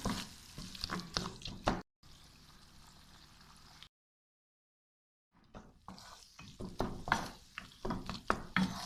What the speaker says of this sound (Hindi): और अंडों को तोड़ लेते हैं, बारीक कर लेते हैं।